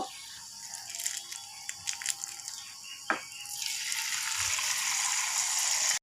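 Sitabhog pieces frying in oil, a soft bubbling crackle that grows into a steady sizzle, with a few light taps and scrapes of a utensil at first.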